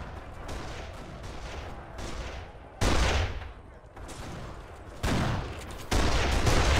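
Loud gunfire from the video game Kane & Lynch: Dead Men comes in dense, rattling bursts that start abruptly and repeat several times, with game dialogue faintly underneath.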